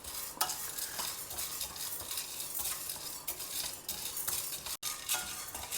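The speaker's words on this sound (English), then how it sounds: "In the same pan, add half a cup of Channa Dal and dry roast that also." Chana dal dry roasting in a pan is stirred continuously, making a soft dry rustling and scraping with light clinks of the spoon against the metal, steady and close.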